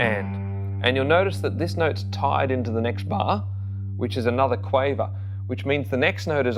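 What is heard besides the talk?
No distinct noise like a dog, phone or traffic.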